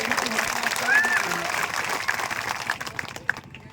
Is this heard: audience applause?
yes